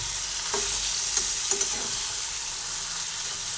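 Chicken sizzles steadily as it is stir-fried in oil for Mughlai chicken, a soft constant frying hiss with a few faint scraping stirs of the spatula, close and alone without any talk.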